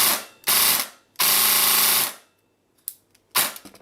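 An Elite Force M4 airsoft rifle on an 11.1 volt battery fires full-auto bursts, two sharp rapid strings up close followed by a couple of shorter cracks, with no talking.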